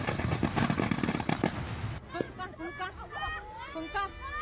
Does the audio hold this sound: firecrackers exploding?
yes